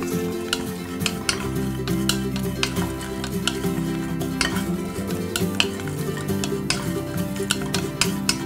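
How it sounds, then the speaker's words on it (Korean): Dried anchovies are stir-fried in a pot, with a close sizzle under a busy rhythm of utensil scrapes and clicks against the metal. Faint background music plays, and no one talks. "멸치는요, 한번 볶아서 비린내를 좀 날려주도록 하겠습니다"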